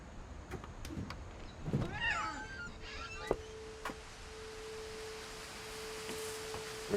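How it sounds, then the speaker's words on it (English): A pet cat named Molly meows in a quiet room, a few soft rising calls clustered early on, faint and close, with a steady thin electronic tone humming underneath and occasional light clicks. "Look at the cat."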